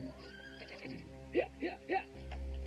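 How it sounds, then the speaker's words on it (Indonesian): A horse being ridden at night gives three short, whinnying calls in quick succession against a faint, steady background. A low rumble follows at the end. "Dia larikan kuda itu perlahan-lahan sehingga bunyi telapak kaki kuda memecah kesunyian malam."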